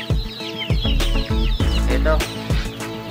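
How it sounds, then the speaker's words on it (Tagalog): Young chicks in a farm brooding pen peep in rapid, overlapping high chirps close by, with a brief voice heard once among them. "Ito na po yung ating mga sisiw po mga paryente."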